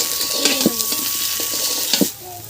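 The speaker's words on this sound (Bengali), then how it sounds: "আমার আলুটা ভাজা হয়ে গেছে আমি তুলে নেব" Half-boiled potatoes fry with salt and turmeric in a pan, crackling and sizzling under a few sharp utensil clinks and scrapes as they are stirred, before the sizzle drops off abruptly near the end.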